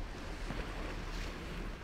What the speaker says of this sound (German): Seaside.